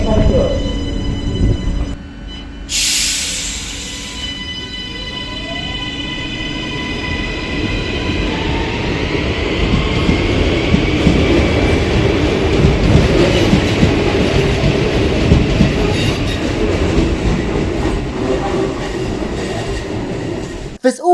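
Barcelona Metro Line 12 train running, starting with a sharp hiss of doors or brakes, then a rising electric motor whine and a steady rumble of wheels on track that stays loud and close throughout, with a brief voice near the start.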